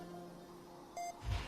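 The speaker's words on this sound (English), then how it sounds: "I just put on the Foundation Property Tracker and it's going beep." The Foundation Property Tracker in Fallout 76 gives off a single brief electronic beep. The beep is moderately loud over a steady hum of in-game ambience, and a low thud follows it.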